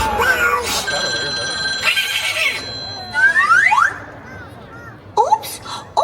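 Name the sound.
Christmas bells ringing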